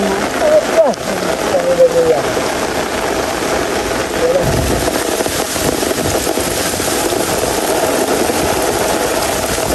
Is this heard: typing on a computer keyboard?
no